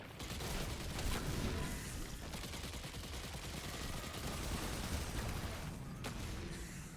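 Rapid, continuous gunfire from Destiny 2 Lightfall, a dense, loud barrage of shots and impacts that runs unbroken for the whole stretch with no voices over it.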